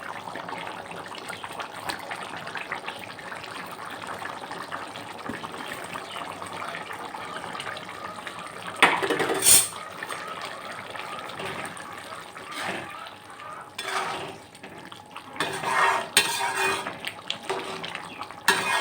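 Fish goes into a simmering curry of jackfruit seeds and pumpkin shoots and is stirred. Soft, faint bubbling runs throughout, with a few wet clatters of a utensil against the pot and scraping bursts toward the end.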